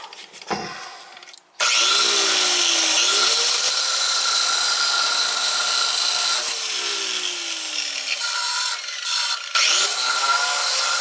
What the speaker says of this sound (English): Cut that with the grinder.